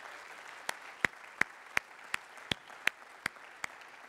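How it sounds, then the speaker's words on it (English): Sparse, evenly spaced hand claps ring out in a church sanctuary during a worship service, about nine sharp claps in a slow steady rhythm over a quiet room. "Somebody give a clap offering of praise to the Lord God Almighty"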